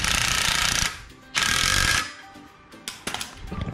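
Bolts being tightened to lock the striper brackets onto a Toro TimeMaster mower, heard as two long bursts of rapid ratcheting, close and fairly loud, followed by shorter clicks with no talk.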